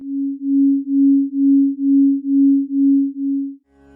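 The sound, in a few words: two slightly out-of-tune tones played together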